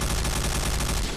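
Sustained automatic fire from a G36C Ext. D rifle in the shooter game Point Blank, a dense, loud, continuous rattle of rapid shots close up with no pauses.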